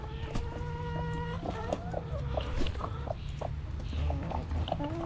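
Backyard chickens cluck and squawk close by while being fed, with a steady stream of overlapping clucks and short calls over faint background rustling and footsteps.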